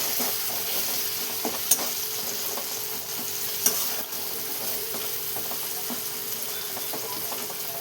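A spiced masala with turmeric is stirred in a pan, a steady low sizzle broken by occasional clicking scrapes of the spoon, including two sharper knocks, with no talking.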